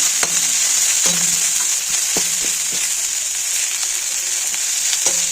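Coriander leaves fry for a chutney, with a loud, constant hiss of hot oil and sharp clicks of a utensil stirring the pan at irregular intervals, close and without speech.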